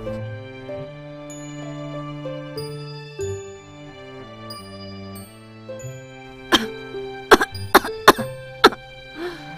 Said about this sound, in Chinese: 定定咳咳嗽